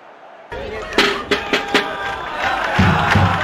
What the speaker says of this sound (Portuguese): A torcida da casa veio em peso, PVC. O estádio está lotado.